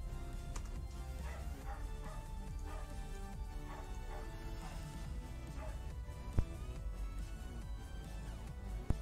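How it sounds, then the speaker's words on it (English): A dog barks and yips in the background throughout, fairly faint and continuous under a steady hum of game sound and music. "wait for the dog to stop barking"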